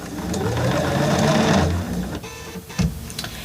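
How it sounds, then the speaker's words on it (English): A sewing machine runs steadily for about two seconds stitching a fabric strap for a baby bath apron, then slows into a few short bursts and clicks, close and loud with no talking. "And I will come back and sew the inside of the strap also."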